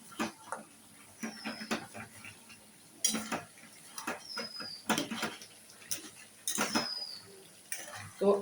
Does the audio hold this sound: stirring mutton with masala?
yes